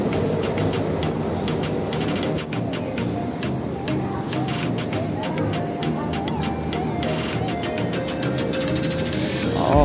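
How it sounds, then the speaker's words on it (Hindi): A Delhi Metro train rumbles and hums through Rajiv Chowk station with a continuous low drone and faint higher whine, crowd murmur blending underneath. "और ये राजीव चौक मेट्रो स्टेशन।"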